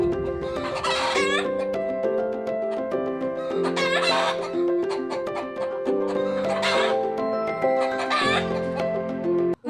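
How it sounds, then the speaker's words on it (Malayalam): Chickens at a home in Kerala give repeated alarm calls at a monkey that has turned up, sharp squawking bursts recurring every second or two over a steady backdrop of other clucking, loud and close, with no talking. "രാവിലെ തന്നെ ഈ ഒരു കോഴികൾ ഒരു പുതിയ അതിഥിയെ കണ്ടിട്ടുള്ള വിളിയാണ്"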